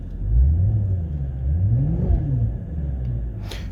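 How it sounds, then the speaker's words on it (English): A 2008 Mercedes S63 engine revving up under throttle, a loud, close rumble that rises in pitch, peaks, then falls back, with no speech. "I have increased the RPMs, nice."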